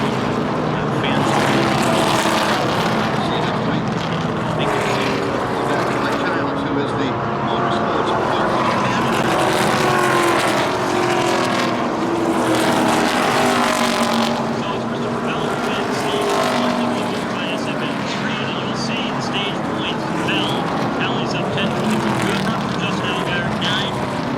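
NASCAR race cars roar continuously around the track at ISM Raceway, a loud sustained engine drone with shifting pitch as cars pass, steady and dense throughout.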